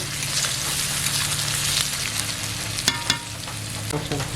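Garlic paste frying in oil for a spicy river fish curry, a steady dense sizzle with a few sharp scraping stirs late on, close and loud with no voices.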